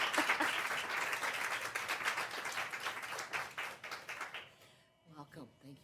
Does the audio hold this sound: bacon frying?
no